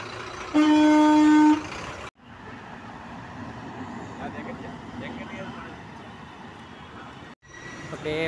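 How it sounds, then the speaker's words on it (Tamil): A bus honks at the Gandhipuram bus stand in Coimbatore, one long loud horn blast near the start, followed by a busy roar of station traffic and engines with voices talking underneath. "மேட்டுப்பாளையம் போகிற பஸ்."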